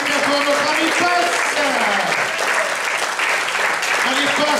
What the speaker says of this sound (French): Je vous demande de l'applaudir pour notre ami Passe.